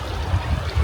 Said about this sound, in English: You can just hear the creek